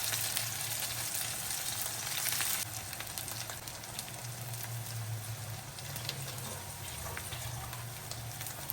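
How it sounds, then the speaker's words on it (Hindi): Minced meat frying with caralluma for qeema chonge, a loud steady sizzle filling the pan close up, with faint stirring and no talk. "अब इसको हम लोग ने अच्छे तरीके से फ्राई कर लेना है"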